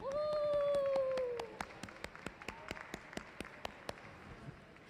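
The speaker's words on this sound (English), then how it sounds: "Clap it up." Scattered hand claps from a small audience at a museum glassblowing demonstration, a sparse and irregular patter that starts after a voice trails off and continues alone, thin and moderately close.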